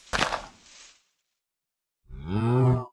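A single long, low cow moo from Minecraft sounds clearly near the end, after a brief noisy burst and a stretch of silence.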